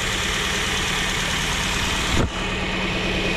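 A Toyota Vios engine, freshly repaired of a typewriter-like ticking, idles close by with an even, steady hum, broken once by a short sweeping dip before it settles back.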